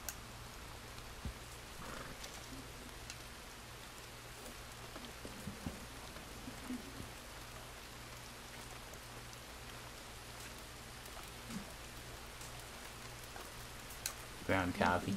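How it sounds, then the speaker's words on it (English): Steady heavy rain in a Western-themed video game pours in a constant, even hiss at moderate level, with faint clicks scattered through it and a louder burst of noise right at the end. "It's raining cats and dogs out here."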